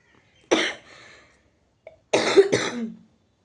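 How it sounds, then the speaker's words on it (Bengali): Two bursts of coughing, the first a single harsh cough and the second a rougher double cough after a short pause, close and clear. "কাশিটা কমলে, আমার কাশিটা কমতেই চাই না"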